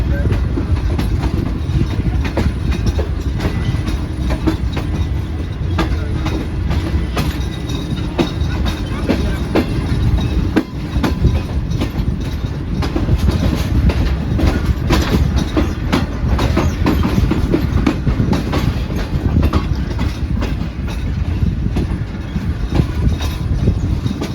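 The Shalimar Express runs steadily on the rails between Lahore and Karachi, its loud continuous rumble and clickety-clack filling the whole stretch without a break.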